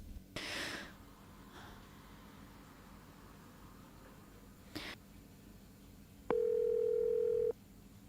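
A steady telephone dial tone sounds for about a second while a call is placed again, preceded by a few faint breaths and rustles with no talking.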